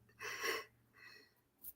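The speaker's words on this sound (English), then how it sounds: "Apologies for the yawn." A drawn-out, breathy yawn with a rising airy exhale, then a shorter second breath and a brief sniff at the end, close and fairly quiet.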